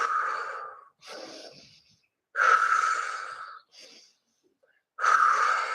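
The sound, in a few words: deep breathing during a workout exercise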